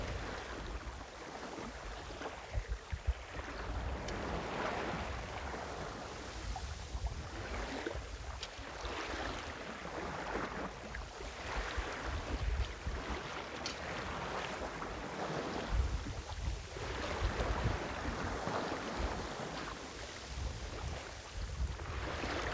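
Sailboat under a reefed jib on the open ocean off the southwest coast of Martinique: steady wind rush and sloshing water against the hull, fairly quiet, with no voices.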